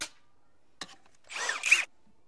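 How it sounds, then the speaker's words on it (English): A cordless impact driver drives a screw during a Bauer 20V versus Milwaukee M18 brushless test, giving a single sharp tick and then a short, buzzing half-second burst in otherwise near silence. "we're gonna put it up against the Milwaukee brushless impact driver with the 5 amp hour battery"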